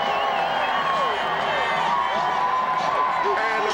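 A crowd cheers for Baltimore Ravens quarterback Trent Dilfer at a Super Bowl celebration, with steady roaring and whoops rising and falling beneath a loud, excited announcer's voice.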